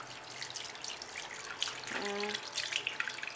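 Water runs steadily from a sink tap in a broadband hiss, with a brief tonal squeak partway through as a makeup brush moves under the stream.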